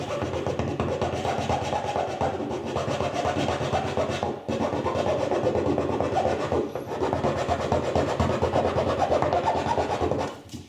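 A square hand file rasps steadily back and forth, enlarging a hole cut in plastic to fit a reverse camera on a C6 Corvette; close, dense scraping strokes with two short breaks, no talking.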